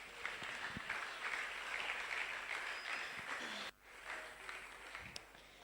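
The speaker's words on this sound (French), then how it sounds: "nous acclamons le Seigneur" Congregation clapping in a church, sustained applause with a brief dip near the end before it resumes, fairly distant, with some voices mixed in.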